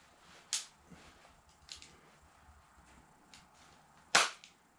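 A flintlock pistol's hammer snaps sharply a few times with light mechanical clicks between, each strike crisp and close in a quiet room.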